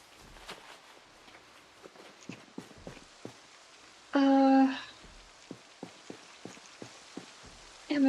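In the Project Zomboid video game, faint rain patters under a series of soft, scattered footstep-like taps, with a brief louder tonal game sound cutting in midway and again at the end.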